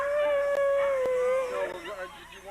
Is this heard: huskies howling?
yes